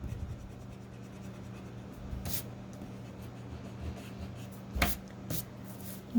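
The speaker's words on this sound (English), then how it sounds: "so we have to erase that line" A pencil line is erased on drawing paper during a children's landscape drawing lesson, heard as a few short, scratchy rubbing bursts over a low steady room hum.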